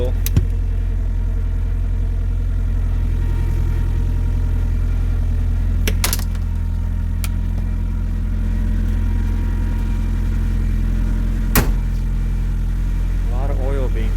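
A Nissan SR20DET engine in an S13 idling and smoothing out, a steady low rumbling hum with a few sharp clicks and knocks over it, held close for the whole stretch.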